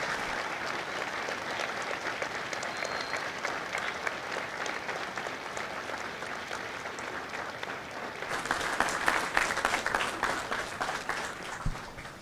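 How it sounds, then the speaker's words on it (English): A large audience at a Marine Corps recruit graduation at MCRD San Diego applauds steadily for over ten seconds, a dense wash of clapping that swells louder near the end. "a round of applause for their dedicated service to Corps and country"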